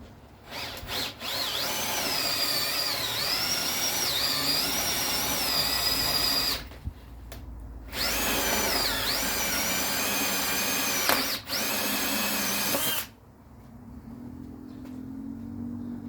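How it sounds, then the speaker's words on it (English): A power drill whines loudly through polypropylene in long sustained runs, cutting a 102mm hole, pausing briefly twice before stopping, leaving a low hum. "make a mess of the hole you're drilling through"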